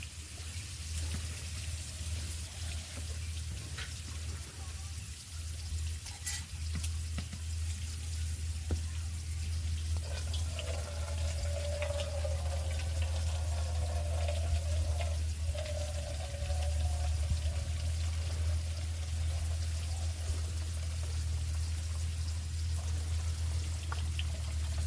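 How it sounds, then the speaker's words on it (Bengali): Starch water is drained off a pot of cooked rice in a steady, faint pouring trickle that continues at length over a low constant hum, with no voices. "ভাত হয়ে গেছে, এবার নামিয়ে আমি ফ্যান ঝরিয়ে নেব।"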